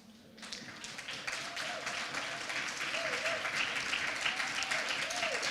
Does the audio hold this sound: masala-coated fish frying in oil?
no